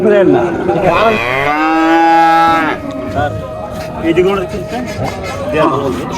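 A cow at a cattle sale lets out one loud, long, drawn-out moo up close, against a background of murmuring and other noise.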